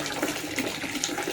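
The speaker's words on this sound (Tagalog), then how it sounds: "Kahit walang nagbobomba mga kit," Water gushing steadily from a pipe without any pumping, flowing in a bakuran (backyard), a continuous close splashing rush throughout with no talk.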